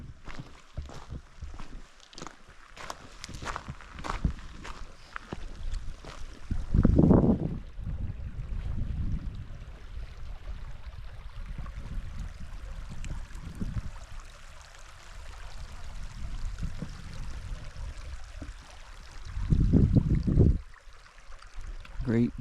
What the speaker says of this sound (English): And the creek feeds in right here.